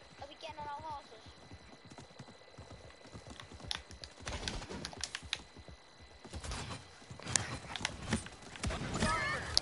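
Rhythmic hoofbeats clip-clop in a game soundscape, mixed with a brief whinny, clicking, and scattered effects; voices murmur faintly at times.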